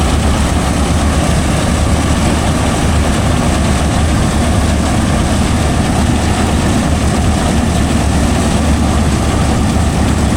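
John Deere 5405 CRDI four-wheel-drive tractor engine running during black rice harvesting, a loud, steady low diesel drone with constant rumble and no pauses, heard close throughout.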